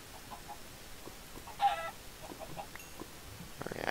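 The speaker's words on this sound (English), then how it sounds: "Chickens, yay." Faint Minecraft chicken clucks and a short squawk, sparse and soft over a quiet low background.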